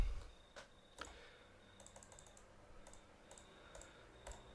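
Quiet keyboard typing, a sparse run of separate clicks and key taps with irregular gaps and no talk, heard while joining a Forgecraft game server.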